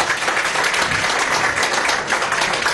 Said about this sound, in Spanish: Bueno, un aplauso a María, ¿vale?